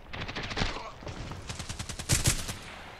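Gunfire in the Contract Wars shooter game, with a Glock 18 among the weapons: loud, closely spaced shots in quick bursts, then a sharper cluster of louder reports near the end.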